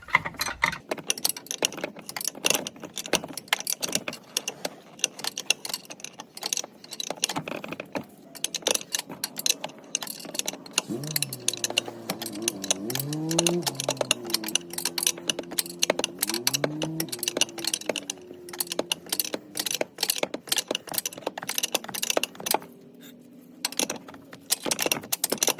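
Wrench work on the shock nuts of a Jeep Wrangler JK during a Bilstein shock installation: a busy run of close metallic clicks, ratcheting and clinks repeating through the whole stretch, with a few squeaky creaks partway through.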